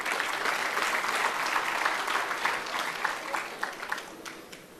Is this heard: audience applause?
yes